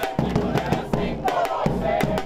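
Soccer fans at an Austin FC match chanting together in loud, rhythmic bursts, a crowd roaring in unison with short pauses between shouted phrases.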